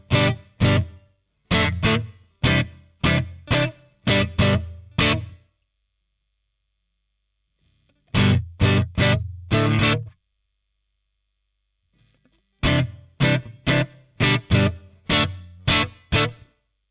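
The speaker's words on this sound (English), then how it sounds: "that sounds like there's some sort of kind of room reverb thing going on" Guitar phrases in short bursts of strummed chords through a Nux Solid Studio with a room reverb impulse response, each trailing into a wash of roomy reverb, with pauses of silence between the groups.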